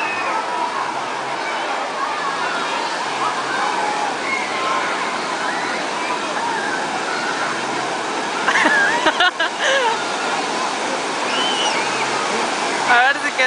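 Broad, steady rush of water at the Typhoon Lagoon wave pool as a wave rolls through, with loud splashing surges near the end and voices mixed into the noisy wash.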